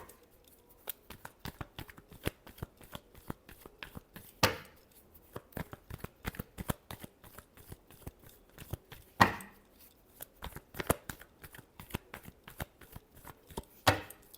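Tarot cards being shuffled by hand, a steady run of crisp riffling snaps and slaps with a few louder flicks, close up with no voices.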